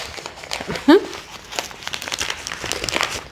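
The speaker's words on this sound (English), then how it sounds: "You ever struggle with these envelopes?" A paper envelope crinkles and crackles as it is torn open, with one sharp, loud rustle about a second in, then steadier crinkling and handling up close.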